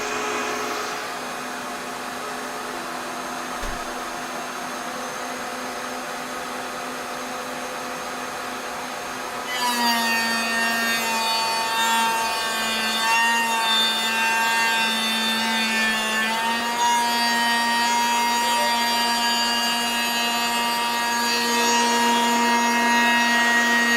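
A Shepoko 5 Pro machine cuts wood into dark brown shavings, a droning motor hum that rises into a louder, busier whine with rubbing, scraping tones partway through, steady and close.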